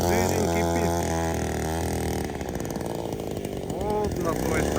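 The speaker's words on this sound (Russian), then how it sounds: "Степан Николаевич пилит лед дружбой 4." Druzhba-4 chainsaw cutting lake ice, a loud buzzing two-stroke engine that rises and falls as it bites, with a voice talking over it.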